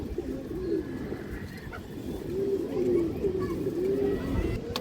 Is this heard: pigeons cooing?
yes